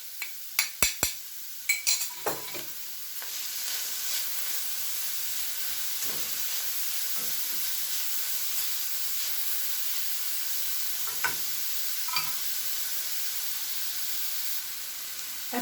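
Grated carrots fry in a pan with a steady soft sizzle and hiss, while a few sharp utensil clicks and scrapes from stirring land early on, then occasional stirring touches later.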